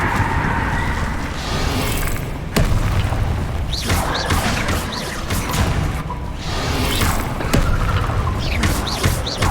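Repeated Confringo blasting-curse explosions from the Hogwarts Legacy video game come as heavy booms and whooshes, with several sharp impacts over a continuous rumbling battle din.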